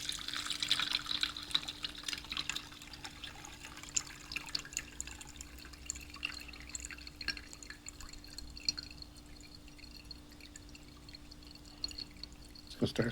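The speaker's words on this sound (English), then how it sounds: "So we're going to go ahead and pour it in and strain it." Steeped coffee is poured through a strainer off grid, with faint dripping and trickling that slows over time, heard close and quiet.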